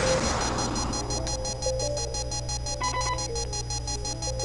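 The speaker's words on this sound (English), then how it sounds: "There's an emergency alarm going off in Alex's apartment." An emergency alarm in an apartment in the video game Double Switch rings in rapid, evenly pulsed electronic beeps, steady and fairly loud, with a low hum beneath it.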